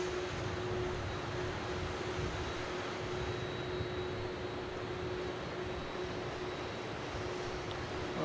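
Jetstar airliner landing at Melbourne Airport, heard as a faint, distant, steady engine drone with a faint constant tone running through it, no voices.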